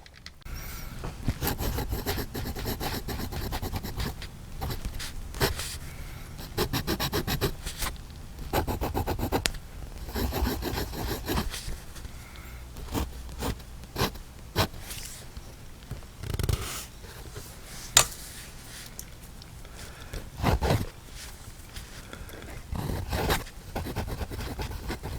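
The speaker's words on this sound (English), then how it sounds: "I had the microphone next to the nib, so you got to hear that nib on the paper" A fountain pen's hooded nib scratches across paper close up, with dry, intermittent scraping strokes and brief pauses between words, no voices.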